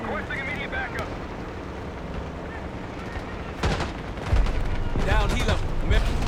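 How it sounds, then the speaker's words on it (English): Gunfire in the video game Call of Duty Black Ops 6, several sharp bursts and rattling volleys that swell louder toward the end, layered over a steady battlefield rumble. "We've got gunfire to the right."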